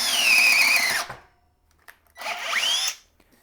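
A Ridgid drill spins a 1/2 inch titanium twist bit into standard 2x pine, making two close, whining bursts of about a second each that slow and drop in pitch as the bit bites, with a quiet gap between.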